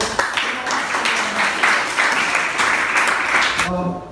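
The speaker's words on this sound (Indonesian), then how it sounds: "Tepuk tangan dulu kelompok ini." A classroom group of students applauds a presenting team after a talk on starter-motor inspection, with dense, steady clapping for about four seconds and voices mixed in, tapering off at the end.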